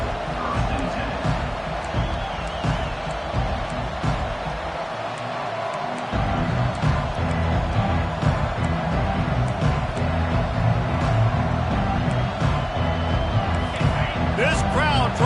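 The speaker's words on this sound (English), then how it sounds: "This crowd trying to show them what it's going to be like all day in this house" In a college football video game, Oregon against Texas A&M, a stadium crowd keeps up a loud, continuous roar with bursts of cheering and clapping. A commentator's voice runs over part of it.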